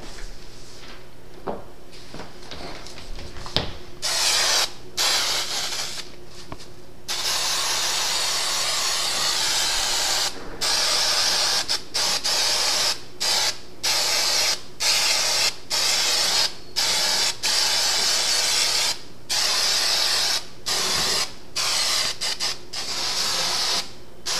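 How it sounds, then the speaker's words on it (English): A can of spray glue, held upside down, hisses in long and short sprays with frequent brief breaks, continuing steadily and close by. "Spraying a little bit upside down here so the glue doesn't want to come out quite as well"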